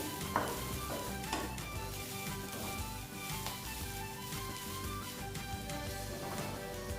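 Frying in a pan for coconut fried rice, a soft continuous sizzle with a few faint scrapes and taps near the start, steady and fairly quiet throughout with no talking.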